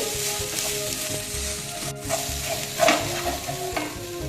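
Spices and asafoetida frying in a pan, a dense close sizzle with repeated scraping and tapping of a stirring spoon, no voices.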